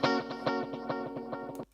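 Electric guitar with a warm tone run through reverb and delay, a short phrase of plucked notes in an even rhythm with echoing repeats, ending abruptly.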